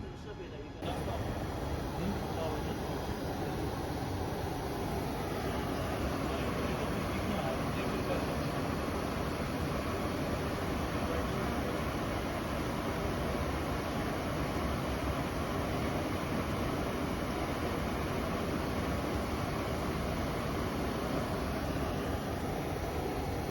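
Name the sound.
automatic copper tube welding machine running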